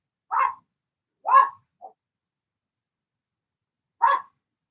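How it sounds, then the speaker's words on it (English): The neighbour's dog gives three sharp, clear barks spaced apart, with a softer short yip after the second, separated by silence. "Susie is not happy with the neighbour's dog."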